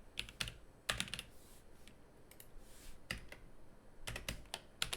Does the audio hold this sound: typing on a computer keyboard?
yes